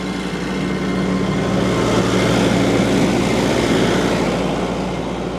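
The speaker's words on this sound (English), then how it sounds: "you're lifting half of it, pretty much, with the skid steer" A skid steer's diesel engine runs steadily under load while lifting a heavy shop frame outdoors, a loud continuous low rumble with a constant hum and no break across the clip.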